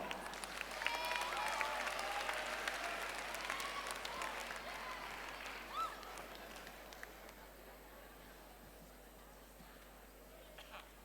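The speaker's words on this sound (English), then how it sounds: "Give him a huge round of applause." Applause from an audience at a junior debate showcase, spread across the room, loudest early on and slowly fading over about eleven seconds, with faint crowd noise mixed in.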